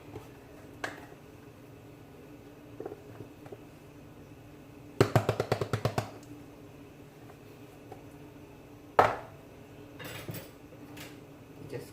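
Shrimp being mixed in a pot with Maggi fish seasoning and black pepper for Jamaican-style steamed shrimp: quiet scattered clinks, a quick rattling burst of metal knocks midway, then a single sharp knock later.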